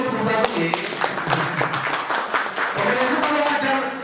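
A group applauds a teacher at a school presentation, scattered hand clapping running throughout alongside speech.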